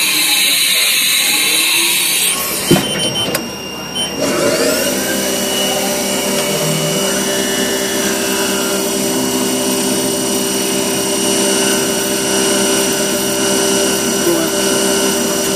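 A Haas TM-1 CNC mill rigid tapping aluminum with a drill bit under coolant spray, a steady high mechanical whine with a rising spindle tone after a brief burst of spray and clatter, loud and sustained, with voices talking over it.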